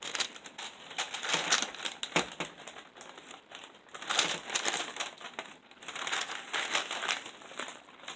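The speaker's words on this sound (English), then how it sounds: "Oops, ripped the paper." Paper crinkling and tearing as it is peeled off a pan of hardened sugar candy, a steady close run of crackly rustles and rips for several seconds with no talking.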